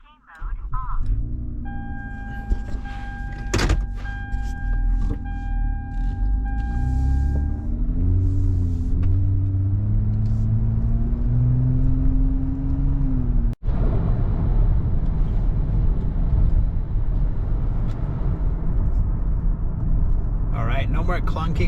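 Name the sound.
Lexus ES-350 driving after rear shock replacement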